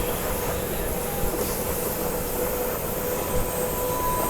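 Simhadri Express heard from onboard: a constant, fairly faint rolling rumble of the carriages, with thin wheel squeals running through it and a couple of small bumps.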